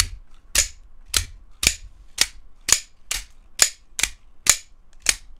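Eleven sharp metallic snaps in an even rhythm, each the crisp spring-loaded blade of an EMPEDC Pulse-R prototype OTF knife shooting out, close and loud with quiet gaps between.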